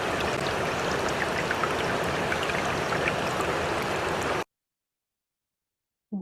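A played recording of flowing water, a steady dense wash with scattered droplet splashes, cuts off abruptly into silence.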